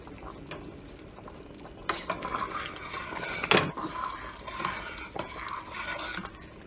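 A pot of Jamaican hominy corn porridge being checked on the stove: a lid and spoon clatter against the pot, with a few sharp metallic knocks over a bubbling, liquid background and no talking.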